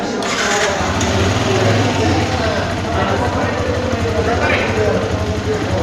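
A motorcycle engine fires up for the first time after a slipper clutch has been fitted, running with a steady, loud mechanical drone that stays close and constant throughout, with workshop voices underneath.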